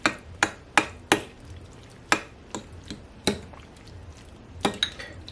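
Spoon clinks and scrapes against a pot as brown jasmine rice is stirred into a roasted eggplant stew, a series of sharp metallic taps at an uneven rhythm, close and moderately loud with no talking.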